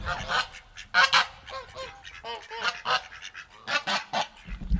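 Geese and ducks on a farm honk repeatedly in a noisy flock, loud and close, with overlapping nasal calls in uneven bursts and no talking.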